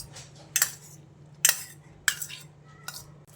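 A spoon clinks against a bowl while stirring dried fruit juice into a chocolate plum cake batter, with four sharp metallic taps spaced out over a soft background hum.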